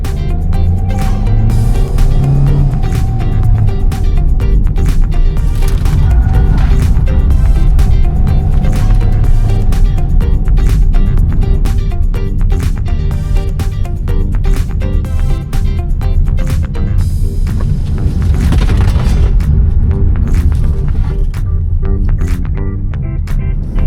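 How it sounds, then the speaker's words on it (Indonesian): Toyota Veloz cornering at 30 km/h: a loud, steady engine and road drone from inside the cabin, with rumbling tire and suspension noise throughout and no voices. "sekarang kita cobain aja dengan kecepatan 30 km per jam, menikung itu mana yang lebih limbung"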